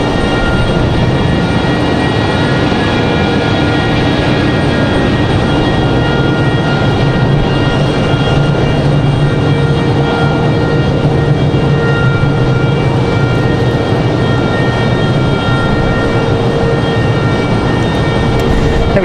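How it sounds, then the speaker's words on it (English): A JetBlue Airbus A220 jet at Raleigh-Durham gives a loud, sustained engine roar with steady high whining tones layered on top. The sound is heard close and alone, with no talk. "JetBlue and that A220 coming back here"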